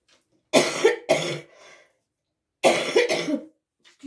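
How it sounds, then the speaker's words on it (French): A woman coughs close by in two harsh clusters, each of two or three rough barks, separated by a short silence in an otherwise quiet room. "Par moments, je tousse encore."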